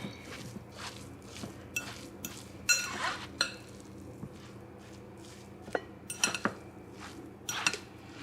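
Goat milk cheese curds stirred in a bowl, a spoon scraping and clinking against the sides in irregular taps and a few louder knocks over a quiet hum.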